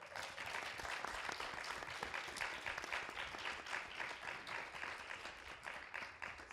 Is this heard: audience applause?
yes